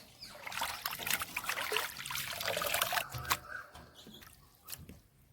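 Raw chicken being rinsed by hand in water for chicken biryani, with close, uneven splashing, trickling and squishing that swells and fades over several seconds, no talking.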